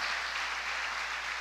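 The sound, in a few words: church congregation applause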